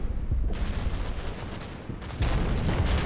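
Mortar rounds firing in the World War II video game Combat Mission: Battle for Normandy: dense, rumbling bursts of blasts roll on continuously, with a brief lull before a second heavy volley, loud and without talk.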